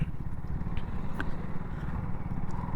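A motorcycle working its way up an off-road mound on a long ride, giving a steady, close, low engine drone with no break.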